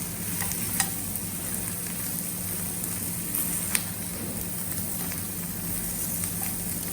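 Stuffed okra (bharwa bhindi), no onion or garlic, sizzles steadily while being stirred in a pan over a high flame, with a few sharp clicks of the spoon against the pan over the continuous frying hiss.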